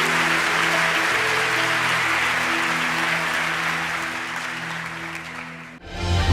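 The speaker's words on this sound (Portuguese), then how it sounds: "Dê um forte aplauso ao Senhor." A congregation applauds during a Christian sermon program: a broad, continuous wash of clapping over a sustained musical tone that fades slightly before cutting off near the end.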